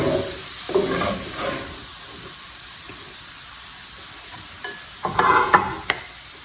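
Noodles simmer in sauce in a hot pan with a steady soft sizzle and hiss, broken by a few stirring scrapes and clinks, alone without talk.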